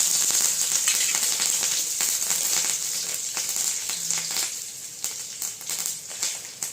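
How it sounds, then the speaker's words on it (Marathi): Green chillies crackling and sizzling in hot oil in a pan with garlic and curry leaves, a steady close frying hiss with sharp pops throughout and almost no talk. "मिरची कशी तडतडत आहे"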